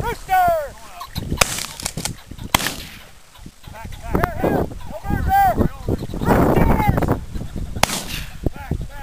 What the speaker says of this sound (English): Shots, huh?